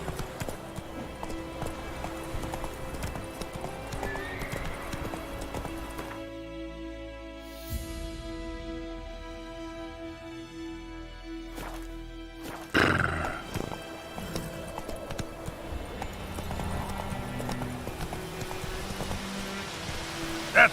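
Geralt's horse Roach gallops in The Witcher game, steady rhythmic clip-clop hoofbeats with an occasional whinny over a continuous ambient bed of rain and wind, loud and close throughout, with a sharper burst midway.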